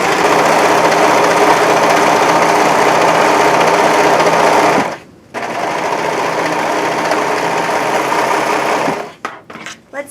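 A serger overlock machine runs steadily for about five seconds, cutting both fabric layers, finishing the seam and gathering fabric, then pauses briefly and runs again before stopping in short bursts near the end.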